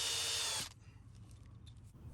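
Power drill boring pilot holes through the angled end of wooden swing-set deck boards and driving 2.5-inch screws, a loud steady whine for about half a second that cuts off abruptly, followed by quieter low rumble and handling noise.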